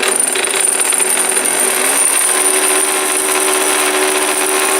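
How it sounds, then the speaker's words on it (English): A Westinghouse model ALB sewing machine winds its bobbin with a loud, continuous motorized whir and a high steady whine that runs unbroken at close range, with no voices. "that's how you fill up your bobbin"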